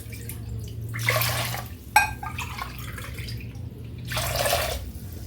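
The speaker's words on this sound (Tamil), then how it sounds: "3 டம்ளர் தண்ணி விடுறோம்" Water from three tumblers splashes into a cooking pot for sambar rice, with two broad pouring bursts and a small drip between them, close and moderately loud over a low steady hum.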